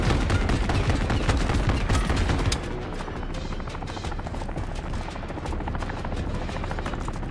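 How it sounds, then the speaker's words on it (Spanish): An attack helicopter in the video game Modern Warfare 3 roars with rotor thump while rapid gunfire bursts crackle over it, then the barrage stops and the steady rotor drone continues alone. "El helicóptero va con todo."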